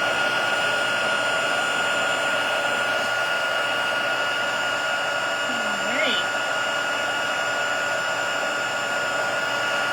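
A heat tool blows steadily and loudly throughout while melting gold embossing powder on a wedding card, a constant close whir with a brief faint voice-like sound in the middle.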